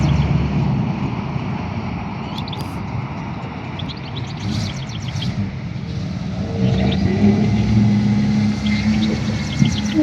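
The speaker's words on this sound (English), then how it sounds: "we're going to drive our camper back because it's now fixed" A newly repaired camper van drives along with a steady engine rumble, road noise and wind buffeting, swelling slightly as it picks up speed.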